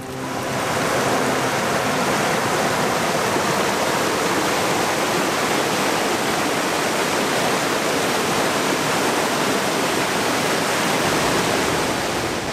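Ragged Falls roars as a constant, loud wash of falling water, close and unbroken, with no voices over it.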